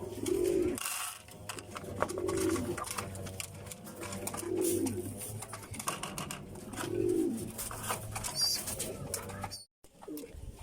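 Pigeons in a loft, with a newly arrived gift bird, give repeated soft cooing calls at an even pace, close by, over a low steady background hum.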